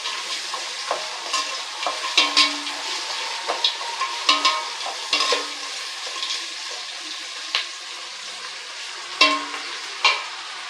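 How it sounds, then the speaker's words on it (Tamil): Ingredients for chicken leg biryani sautéing in a pan, a continuous loud sizzle broken by repeated scraping stirs of a spoon against the pan, close and without talk. "நல்ல கலர் வர அளவுக்கு நல்லா வதங்கின்னு இருக்கு."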